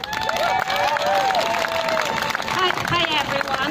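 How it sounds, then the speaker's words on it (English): An outdoor crowd at a rally in a city park claps and cheers to welcome a speaker, with shouts and whoops over continuous applause, loud and close. "Big round of applause, guys."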